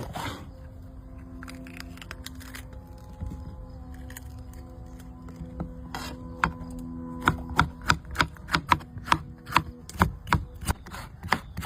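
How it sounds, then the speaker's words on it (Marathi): A knife chopping capsicum (shimla mirch) on a cutting board, first soft and scattered, then a steady run of sharp, close, rhythmic chops growing louder, over faint background hum. "आपण शिमला कट करून घेऊ"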